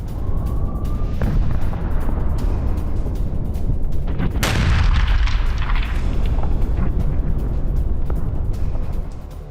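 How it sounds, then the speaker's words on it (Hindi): Explosions from Israeli airstrikes on southern Lebanon: a continuous loud, heavy rumble of distant blasts, with a sharp, powerful boom about halfway through that rolls into a long decaying roar. No speech. "दक्षिणी लेबनान में इजरायली सेना ने बमबारी की।"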